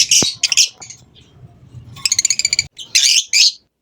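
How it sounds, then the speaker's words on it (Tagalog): Pet aviary birds, including split Ino birds, chirping and tweeting in bright repeated bursts, with a quick run of rapid chirps midway and a low hum of room noise underneath. "Itong mabait nating ibon."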